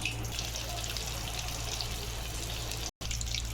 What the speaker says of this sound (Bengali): এবার এটা ছাঁকা তেলে ভালো করে ভেজে নেব